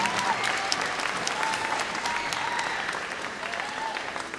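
An audience applauds an orchestra at a Black History Month concert, a dense, sustained wash of applause from a crowd that tapers slightly toward the end.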